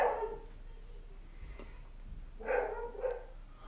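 A dog on high alert while bathrooms are being remodeled, giving a couple of mid-range barks or yips in a quiet room, one at the start and two more near the end, with no talking.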